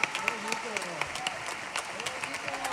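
Audience applause for performers at a Catalan event, a fairly dense patter of clapping from a crowd with some individual claps standing out and a voice speaking over it.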